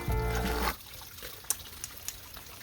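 Spring water from Sweet Spring in Eureka Springs, Arkansas runs into a bottle. A loud, rising filling gurgle cuts off and is followed by quiet, sparse drips and trickles nearby.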